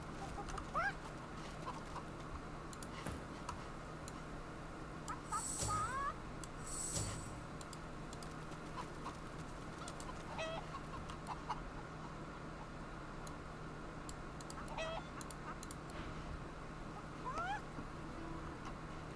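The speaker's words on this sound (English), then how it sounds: "So the chickens are just hanging back." Chickens clucking in the fantasy role-playing game Divinity Original Sin 2, with scattered short clucks and squawks over a steady low background hum and no talking.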